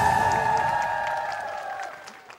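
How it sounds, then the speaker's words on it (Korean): Applause from a TV studio audience on a Korean variety show, a steady wash of clapping and light cheering that tapers off near the end, with no talking over it. "박수 주세요."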